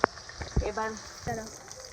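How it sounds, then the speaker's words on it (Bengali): Pre-fried soybean chunks, potato and pointed gourd tipped into a curry pan give a short burst of sizzling with a few clattering stirs, close and moderately loud. "এবার দেখো আমি আলু পটল সোয়াবিনটা ঢেলে দিলাম তরকারিতে।"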